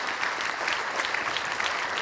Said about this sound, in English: So can we just give a round of applause to James?